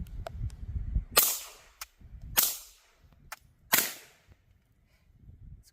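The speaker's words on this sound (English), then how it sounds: "It shoots better than most other 9mm subguns I've shot." Suppressed B&T SPC9 9mm submachine gun firing three spaced single shots, each a sharp muffled crack with a short decay, fairly close, over low background rumble.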